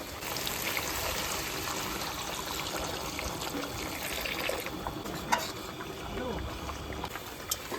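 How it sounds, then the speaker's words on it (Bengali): Water pours into masala frying in oil in a pan, a steady soft trickling and sizzling hiss that runs on evenly, with a few faint clinks near the end. "এখন জল দিয়ে দেবো"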